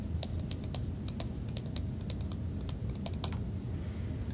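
A stylus writes and taps on the screen of a Motion CL910 rugged tablet PC, giving a series of small, sharp clicks in uneven rhythm over a faint low hum, with no talking.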